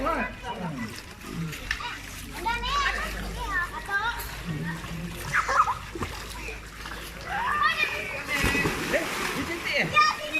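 Children splash and play in a pool, with water sloshing and splattering throughout, amid excited kids' voices and shouts close by.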